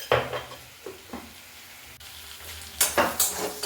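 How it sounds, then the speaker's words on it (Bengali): Prawns being stirred with salt and turmeric in a hot pan, soft sizzling with clattering stirs in a few quick bursts, fairly close, with no talk. "এবার ভালো করে লবণ হলুদ মিশিয়ে নেব।"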